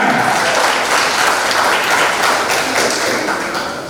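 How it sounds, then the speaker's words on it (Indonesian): A graduation ceremony audience applauds loudly and steadily, dense clapping filling the hall without pause and easing slightly at the end. "Tepuk tangan."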